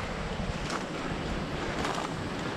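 Steady wind blowing across open water outdoors near a shoreline with gum trees, a constant broadband rush with faint wave wash underneath and no voices.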